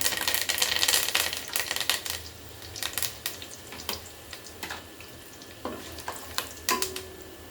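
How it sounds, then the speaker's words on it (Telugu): Sliced onions fry in a pan for Andhra-style spicy chicken pulao, with a soft background sizzle broken by frequent sharp clinks and scrapes of a stirring spoon against the pan, close and without talking. "ఉల్లిపాయ ముక్కలు, ఉల్లిపాయలు గోల్డెన్ కలర్లో వచ్చే వరకు వేగించాలండి"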